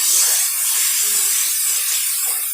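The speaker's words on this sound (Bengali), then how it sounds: "পেঁয়াজটা লাল লাল হয়ে এসেছে, এখন আমি মশলাটা দিয়ে কষিয়ে নিচ্ছি ততক্ষণ পর্যন্ত তেল না ছেড়ে দিচ্ছি।" Onion and spices sizzle in hot oil for a small-fish curry, a dense loud frying hiss that stays steady and close for a few seconds, without talk.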